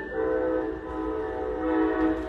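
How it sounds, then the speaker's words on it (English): A train passes close by an abandoned building, its horn sounding in steady, loud harmonic tones over a low rumble for the whole stretch, with no voices. "I think there's a train station nearby. That was loud."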